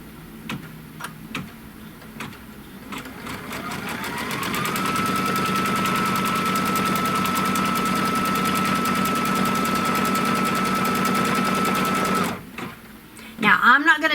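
A quilting sewing machine stitches a seam line in one long, fast, steady run of needle hammering. A few slower stitches lead in, the sound holds level for several seconds, then stops abruptly and is followed by light handling noises.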